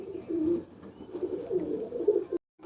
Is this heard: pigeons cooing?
yes